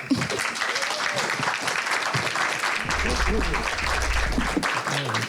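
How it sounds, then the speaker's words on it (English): Round of applause for a panel of speakers at a conference, a dense, steady wash of many hands clapping throughout, fairly loud and continuous, with some low rumble partway through. "please give a big round of applause"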